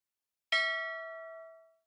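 A single custom bell sound effect from the video game Stormworks strikes once with a sharp metallic onset, then rings out clearly for over a second before fading, alone in silence.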